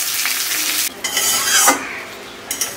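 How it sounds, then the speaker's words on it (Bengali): Eggs for a masala egg curry fry loudly in a pan while being stirred, giving a strong sizzle with scraping and light clatter of utensil against metal, and no one speaking. "দেখুন আমার ডিমগুলো ভাজা হয়ে গেছে"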